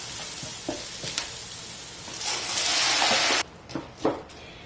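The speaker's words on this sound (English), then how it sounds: "We are adding our pre-soaked white basmati rice." Pre-soaked white basmati rice tumbles into hot olive oil in a pot, setting off a loud, hissing sizzle with stirring scrapes that cuts off abruptly, leaving soft clatters.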